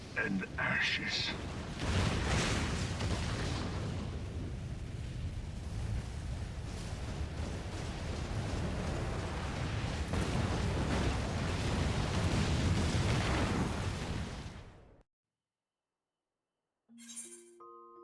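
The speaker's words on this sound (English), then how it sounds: "this is a really big explosion" A massive explosion from the video game Final Fantasy XIV roars as a sustained, loud rumbling blast lasting many seconds, then cuts to silence before a short musical cue.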